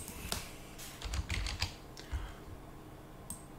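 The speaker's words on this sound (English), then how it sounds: "Takes me longer to type that." Typing on a computer keyboard while naming a file, heard as a few bursts of quick plastic key clicks with short pauses between them, close and fairly quiet.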